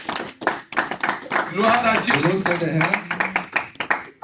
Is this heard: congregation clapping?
yes